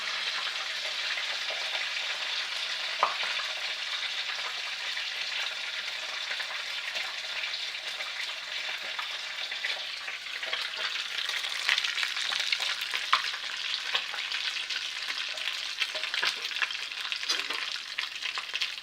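Banana sweet cutlets frying in butter in a pan, a steady bright sizzle with crackling pops and faint stirring scrapes running continuously at moderate level, no voices.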